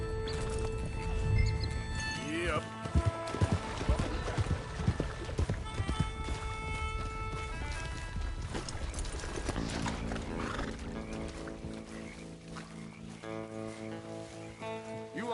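Steady clip-clop of horse hooves with an occasional whinny in Red Dead Redemption 2, mixed with music and game sound effects, no talking.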